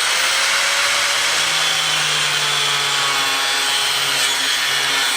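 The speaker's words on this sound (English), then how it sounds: "I like to use a grinder because it makes a really clean cut" An angle grinder cuts through a boat cover support railing, giving a continuous, harsh high whine and grinding hiss, steady and close throughout.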